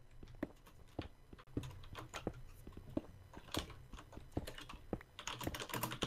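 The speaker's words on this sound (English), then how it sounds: "Stop typing." Rapid clicking of a computer keyboard, typed in quick bursts with brief pauses, up close and alone during a Minecraft UHC gaming session.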